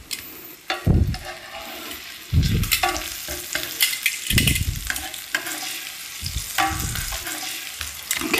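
Pineapple slices sizzle in a hot pan, with loud bursts of spatter and scraping as they are flipped and stirred, then a steady hiss underneath.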